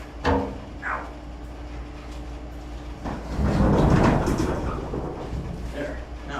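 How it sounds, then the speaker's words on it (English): A garage door rumbles and slides open with a drawn-out rolling rattle that swells midway and then eases, with brief knocks before it in a home garage. "forgot to open up the garage door"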